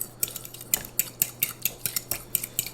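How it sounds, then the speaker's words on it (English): A fork scrapes and clinks steadily against a bowl, mixing brown sugar into butter in quick, regular strokes, close and alone. "I'm actually going to use a new fork. So I'm going to just mix this up good"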